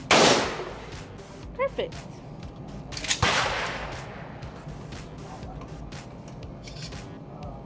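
A Mossberg Shockwave shotgun fires one loud, sharp blast near the start, followed by two more shots a few seconds later, with a person speaking briefly in between.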